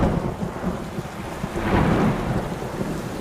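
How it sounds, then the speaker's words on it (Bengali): A thunderstorm with heavy rain pours down steadily, its dense hiss layered over a deep rolling thunder rumble that swells in the middle, with no voices. "এমন সময় আকাশ ভেঙে শুরু হলো বৃষ্টি।"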